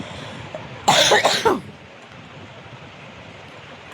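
A short, harsh fit of three or four close coughs from someone with a cold, fever and sore throat, followed by quiet room tone with faint wind noise.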